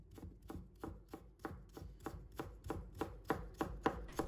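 A knife cuts a piece of ginger into thin shreds on a board for dumpling filling, giving about a dozen crisp, evenly spaced chops that grow slightly louder and quicker, close and alone without talk.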